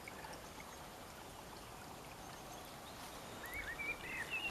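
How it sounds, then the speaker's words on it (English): Clean water flows down a small stream on a permaculture site in Ireland, a faint steady trickling wash with a few bird chirps near the end. "look how clean that water is as it flows down there"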